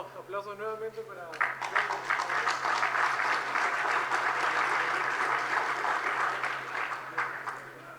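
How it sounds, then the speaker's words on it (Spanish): A conference audience at a mechanical engineering congress gives renewed applause, a broad wash of clapping that rises after a brief spoken line and carries on steadily, with talk returning faintly near the end. "Les pido aplausos nuevamente para"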